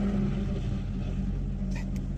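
A V8 biturbo race car engine at a Formula GT 2025 event gives a steady, low idling rumble that holds evenly throughout, moderately close, with no voices over it.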